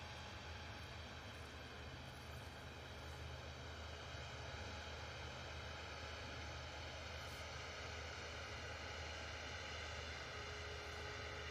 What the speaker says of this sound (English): decent landing there from the Ryanair